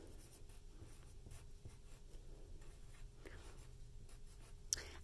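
A pen scratching across paper up close, faint continuous strokes with small rhythmic pauses in a quiet room, no speech.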